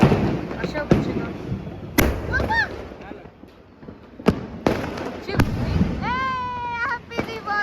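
Diwali firecrackers and fireworks bang in sharp, loud cracks at irregular intervals, with crackling bursts and whistling rising tones between them, while family members chatter in the background.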